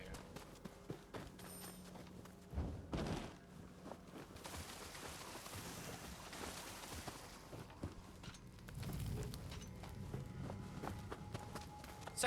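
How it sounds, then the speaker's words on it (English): Footsteps in the video game Nioh 2, a quiet run of soft repeated steps with a few louder thuds over a faint ambient background. "because I heard loud footsteps"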